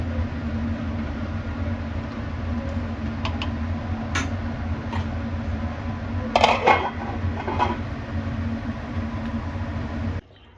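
A metal lid set onto a cooking pot of simmering vegetarian parwal curry, a few light clinks and a brief clatter over a steady kitchen hum, then quiet.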